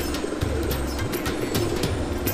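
Soft, low coos of Rampuri Kalsiray pigeons repeating in short rolling phrases over a constant background hum, with faint higher bird chirps mixed in.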